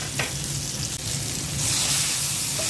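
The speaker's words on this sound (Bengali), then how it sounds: "এখন বেগুনটা দিয়ে দিচ্ছি" Eggplant goes into a hot pan over fried onion and garlic, and the close, even sizzle swells louder partway through, with no voices.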